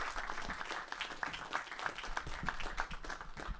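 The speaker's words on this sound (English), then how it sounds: "Give her a round of applause." An audience applauds a speaker at a local community talk, with steady, moderately faint clapping that lasts a few seconds.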